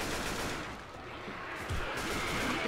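AK-47 gunfire in the video game Left 4 Dead 2, heard as a dense, continuous burst of loud shots filling the whole moment.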